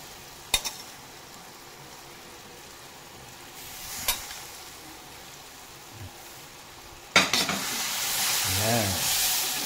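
Octopus cooks in adobo sauce in a pan, giving a soft steady simmering sizzle with a few sharp clanks of utensils, then a louder burst of bubbling frying near the end.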